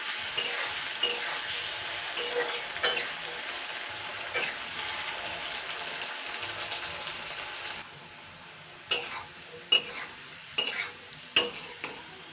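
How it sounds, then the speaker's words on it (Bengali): Potato pieces frying in oil in a pan give a steady sizzle, broken by repeated scraping stirs of a spatula that grow sharper and more distinct toward the end. "আলুটাকে আগে দুই মিনিট মতন ভেজে নেবো ফ্রাই করে নেবো"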